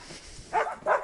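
A dog barks twice in quick succession, close and fairly loud, outdoors on a walk in the Colorado mountains.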